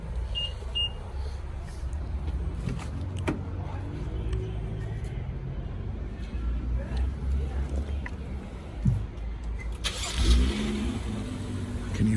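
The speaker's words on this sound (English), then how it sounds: "Can you feel that engine purr?" Jeep SRT engine revving on a street, a low engine rumble rising in a couple of throttle surges, mixed with passing traffic and people talking over it.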